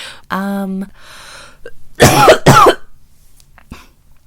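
A person breaks into a harsh cough, then two loud, rasping coughs close together follow a short vocal sound, with quiet breathing afterward.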